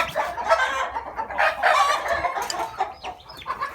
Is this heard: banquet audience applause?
no